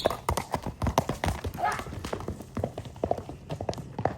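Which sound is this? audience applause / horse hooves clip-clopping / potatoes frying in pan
horse hooves clip-clopping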